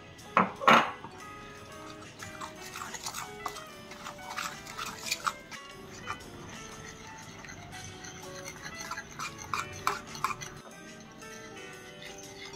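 Besan batter for bread pakoda whisked with a utensil in a bowl, repeated clinks and scraping knocks in uneven bursts, close and moderately loud, with a few sharper taps.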